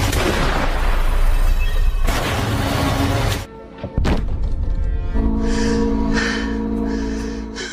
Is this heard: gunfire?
yes